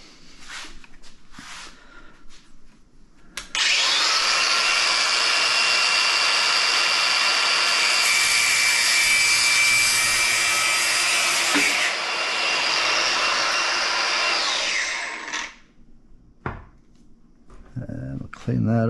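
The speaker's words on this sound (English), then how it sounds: "I'm going to cut it right there. I got my disc grinder out." A disc grinder cuts metal during a Porsche 912E air-cooled Type-4 engine build, a loud sustained whine lasting about twelve seconds, with quieter handling noise and talk before and after.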